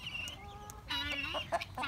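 Backyard chickens, including Seramas and Modern game birds, clucking near and fairly loud in short bursts, with a brief squawk toward the end and no talking.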